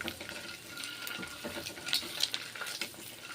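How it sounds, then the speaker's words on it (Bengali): Seasoned boiled eggs shallow-fried in a pan and turned to brown both sides, a faint crackling sizzle with irregular spitting pops. "ডিমগুলোকে দু পিট ভেজে নিচ্ছি উল্টো পাল্টে দু পিট ভেজে নিচ্ছি ডিমগুলোকে"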